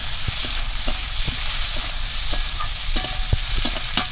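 Chopped onions fry in a pan and get stirred; a steady sizzle runs throughout, broken by sharp scraping clicks of a spoon against the pan every so often, close and fairly loud, with no talking.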